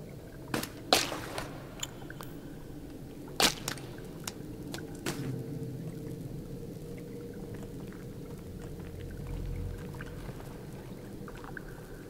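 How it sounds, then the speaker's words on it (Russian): Water drips inside a bunker in the Sons of the Forest video game: a few sharp, sparse drops early on, then mostly a low, steady ambient hum, quiet and echoing. "Только вода капает."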